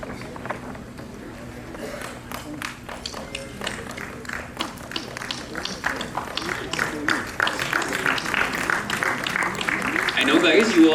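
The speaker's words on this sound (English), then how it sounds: "Your claps are required." Scattered clapping from a conference session audience builds gradually, sparse at first then growing louder and denser toward the end, with some talk mixed in.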